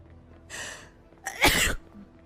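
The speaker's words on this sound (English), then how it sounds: "why do you sneeze like that?" A person gives a quick intake of breath, then a sharp, forceful sneeze that bursts out close and loud before fading.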